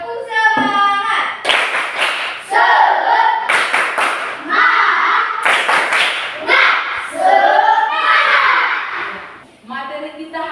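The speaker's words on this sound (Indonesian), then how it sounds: "Sekarang kita buktikan dengan tepuk semangat." A classroom of students performs a rhythmic spirit clap, bursts of loud group clapping and stamping alternating with shouted chanting voices in a steady pattern.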